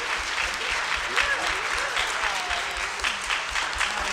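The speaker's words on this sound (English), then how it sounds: "Let's give them a round of applause." Audience applause for a keynote panel on a television drama, a steady wash of many hands clapping together at moderate volume, with faint voices mixed underneath.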